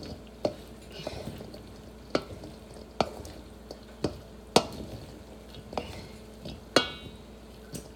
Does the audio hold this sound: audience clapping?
no